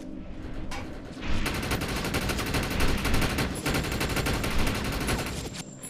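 Rapid automatic gunfire rattles almost continuously in the shooter game Defiance while enemies are shot, loud and dense with brief gaps between bursts.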